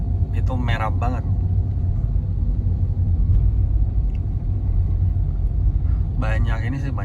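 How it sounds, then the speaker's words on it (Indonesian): Dense highway traffic on the Sumatra east-coast route, with many trucks, makes a continuous low rumble of engines and tires heard from inside a vehicle, while people talk briefly at the start and end. "Banyak ini sih, banyak truk gitu."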